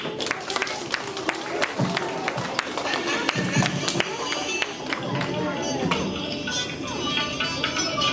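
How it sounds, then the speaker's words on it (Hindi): Classroom audience applause welcoming a student forward for a cartoon character activity, steady scattered clapping throughout, moderately near, with talk mixed in. "1F से जश को बुलाकर उसका स्वागत तालियों से करते हैं।"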